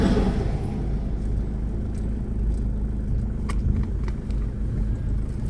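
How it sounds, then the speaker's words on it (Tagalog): Noisy car engine idling in traffic, a loud, continuous low rumble that stays close and steady throughout, with light rattling and faint higher clicks on top. "Sasakyan, kailangan na rin ipacheck. Masyadong maingay."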